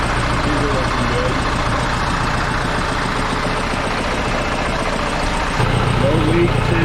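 A Case 188D tractor diesel engine idles steadily and loudly up close, a continuous low rumble with a faint knocking texture that runs unbroken from start to finish.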